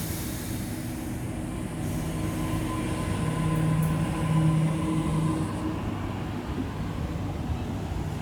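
Steady low rumble of a passenger train departing Normanhurst station platform 2, with a faint tonal whine and rolling wheel noise, continuous and moderately loud throughout.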